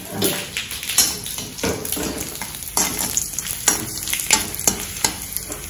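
Mustard seeds, cumin and dried red chillies frying in hot oil, a close, loud crackling sizzle with frequent sharp pops and stirring clatter, no voices.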